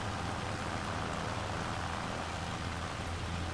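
Steady rain falls in Farming Simulator 25 as a dense, continuous hiss of drops on surfaces, even in loudness throughout with no talk.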